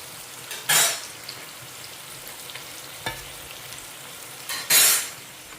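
Murukku fries in hot oil with a constant low sizzle, broken by two loud hissing surges a few seconds apart and a light clink between them, with no talking.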